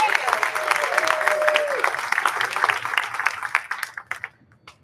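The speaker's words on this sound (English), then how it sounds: "Can you guys all please give them a round of applause as well?" Audience applause at a college bowling awards show at the Hard Rock Hotel in Las Vegas, a steady wash of clapping that thins and fades out near the end, with a brief tonal sound early on.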